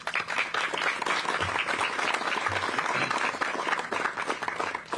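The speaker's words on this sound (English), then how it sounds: "I'm going to give you a round of applause today" A crowd gives veterans a sustained round of applause at a Veterans Day event with a county sheriff's office, steady, full clapping from many hands for five seconds, with faint voices mixed in.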